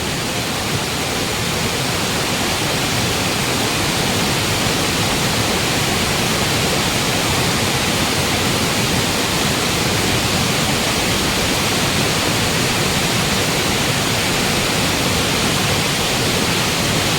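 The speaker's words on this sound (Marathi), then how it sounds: "पाणी पण खूप मोठं आहे" Stream water rushing loudly and continuously near a crab-trapping spot, a dense steady roar with no pauses and no voices.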